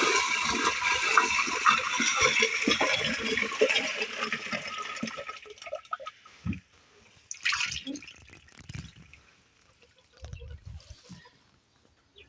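Green leaves are rinsed in a basin of water, with steady sloshing and splashing for the first several seconds. After that come separate, scattered splashes and drips with quiet gaps between them.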